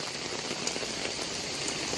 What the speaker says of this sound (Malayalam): കോഴിക്കോട് മായനാട് കനത്ത മഴ പെയ്യാണ്